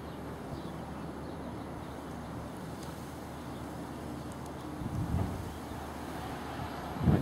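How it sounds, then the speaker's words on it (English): Wind of roughly 2 to 3 meters per second rushes across an outdoor microphone, giving a steady low rumble that swells slightly near the end, with no voices. "I'm getting winds here right on it, probably 3 meters per second, maybe two"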